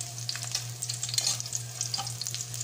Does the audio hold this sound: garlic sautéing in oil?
yes